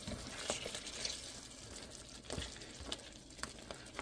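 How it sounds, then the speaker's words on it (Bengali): Beef cooking dry in a pan without added water, stirred now and then, giving soft scraping and a low sizzling crackle with a few sharper clinks, moderately close and quiet, no talking. "যখন মাংসটা শুকিয়ে আসে তখন একটু নেড়ে দিতে হবে।"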